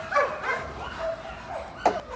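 A bandog or pit bull barks in a kennel yard: a few short, sharp barks and yips with a brief louder one near the end, close by and sounding alone.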